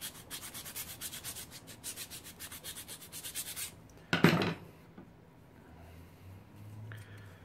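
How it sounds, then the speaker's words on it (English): A round rasp bores out the barrel of a Nerf Nite Finder blaster with steady, rhythmic rubbing strokes, close and fairly quiet, followed by a brief louder scrape and then near quiet. "we will need to use a round rasp in order to bore out the barrel just a little bit more"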